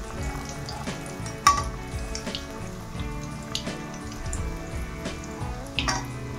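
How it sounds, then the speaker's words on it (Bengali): Raw-banana kofta balls fry in oil over a lowered flame, giving a steady close crackle and bubbling sizzle with occasional sharper pops. "তাই কম আছে ভালো করে ফ্রাই করে নিন।"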